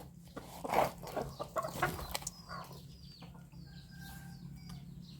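Farmyard chickens cluck and squawk in several close, uneven bursts, with a few distant calls and faint wing flaps over a low background hum.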